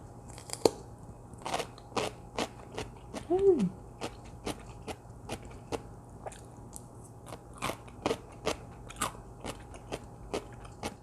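Someone bites into fresh, crunchy cucumber kimchi and chews it close to the mic. Sharp, regular crunches repeat steadily, with a brief murmured voice partway through.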